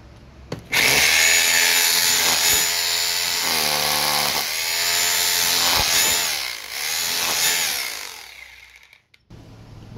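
A Bosch GBH 2-24D rotary hammer drill runs in hammer mode, starting abruptly and pounding loudly and close in a sustained buzzing roar with rhythmic pitch swells, then winding down and stopping near the end.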